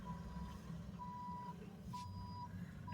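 A truck reverses in a parking lot, its backup alarm giving steady, evenly spaced single beeps over a low engine rumble and outdoor hum.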